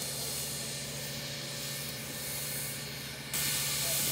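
A steam engine at a railway turnaround gives off a loud, continuous hiss of escaping steam that swells even stronger partway through, heard alone without voices.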